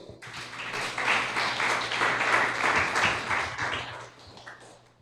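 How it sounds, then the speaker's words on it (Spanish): A congregation claps and applauds steadily for a few seconds during a church sermon, swelling quickly and then tapering off. "Denle un fuerte aplauso a Dios."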